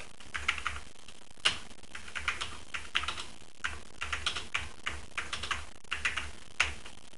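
Someone types an email message on a computer keyboard in steady bursts of clicking keystrokes with brief pauses between words. The sound is close and moderately quiet, with no talking.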